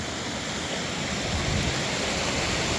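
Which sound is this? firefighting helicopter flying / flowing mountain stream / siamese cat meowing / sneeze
flowing mountain stream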